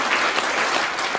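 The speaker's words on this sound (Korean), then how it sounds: "다시 한번 여러분들 박수 한번 쳐주셨습니다" At a traditional Korean dance performance, an audience breaks into loud, dense applause, a brief and continuous rush of many clapping hands close by.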